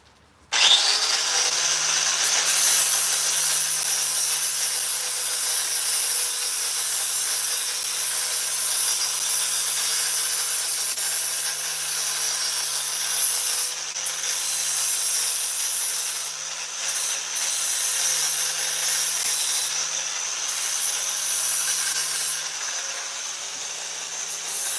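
A power tool grinds steadily on the face of a steel anvil being dressed, a loud, continuous high-pitched whine that runs unbroken for a long stretch, with only slight dips as the pressure changes.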